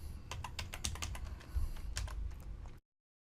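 Quick, uneven clicking of a computer keyboard as CSS code is typed, a close run of crisp keystrokes with short pauses before the sound cuts off abruptly.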